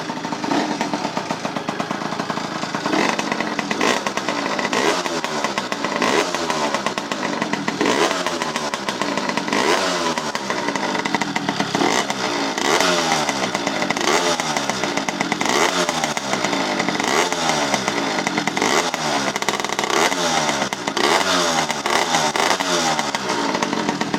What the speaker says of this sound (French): C'est une moto, et au niveau du bruit, ça donne ça.